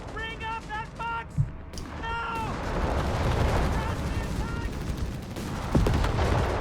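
Battlefield gunfire from the strategy game Company of Heroes 3, British forces against German troops, with bursts of rifle and machine-gun fire and explosions building into a dense, continuous barrage, with a few sharp reports standing out, while a commentator talks over it.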